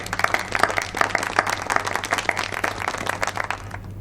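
Lively clapping from a group of coworkers in an office after a colleague is praised for becoming the top performer within two months, with dense, continuous applause near the listener and no talking.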